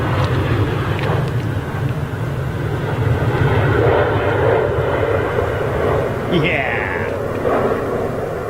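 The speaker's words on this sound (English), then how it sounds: "Dreamliner." A Boeing 787 Dreamliner airliner passes overhead at an air show near Manchester, its engines giving a loud, steady roar that fills the whole stretch, with a brief higher whine near the end.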